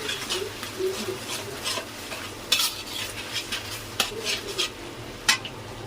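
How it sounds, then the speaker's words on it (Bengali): A spatula stirs and scrapes tomato sauce and Maggi masala in a sizzling pan, with repeated close scraping strokes, occasional sharp metallic clinks against the pan, and a low hiss underneath. "তারপরে দিলাম টমেটো সস, দুইটা ম্যাগি মশলা, এটা একটু ভালোভাবে নেড়ে চেড়ে মিশিয়ে নিলাম"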